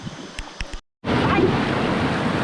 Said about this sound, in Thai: มีเสียงน้ำไหลข้างหน้า